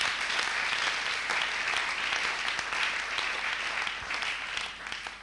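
A church congregation applauding the Lord, sustained dense clapping from a large crowd filling the room steadily for several seconds, then easing slightly near the end.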